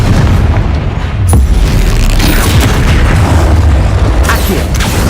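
A fire-blast spell explosion in the Hogwarts Legacy video game lets out a loud, dense boom with a sharp crack near the start, with continuous rumbling game effects filling the rest.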